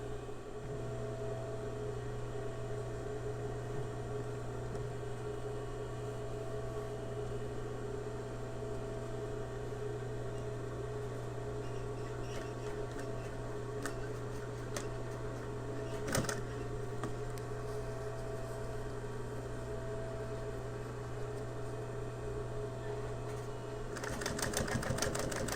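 A sewing machine stitches a PALS elastic panel in one long steady run, with a constant hum and whir that stays even throughout, close and moderately quiet, with a couple of brief clicks and a busier stretch at the end.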